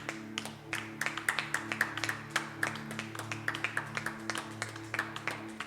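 Church congregation clapping in a steady rhythm during worship, sharp repeated claps over sustained music, moderately loud and continuous.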